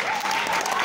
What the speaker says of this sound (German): Großen Applaus für die Band.